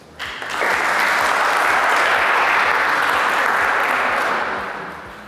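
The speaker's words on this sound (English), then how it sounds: "can I have one more round of applause for the organizers?" Applause for the organizers at a WordPress conference talk, a large audience breaking into loud, dense clapping that swells quickly, holds steady for several seconds, then gradually thins out.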